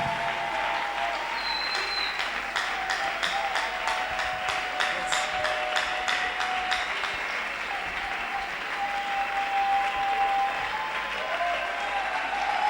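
A church congregation bursts into sustained applause, many hands clapping together with stretches of rhythmic, unified beats within a dense, steady clatter lasting over twelve seconds.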